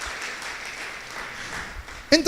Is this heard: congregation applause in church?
yes